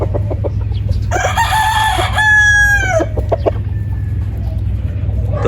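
A white Kelso gamefowl rooster on a farm crows once, loud and close, a long drawn-out call rising and then trailing off, with faint clucking and farm background around it.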